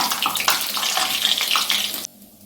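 Slices of bread sizzling in hot oil in a pan, a dense crackling fry that runs steadily and close, then drops off sharply near the end.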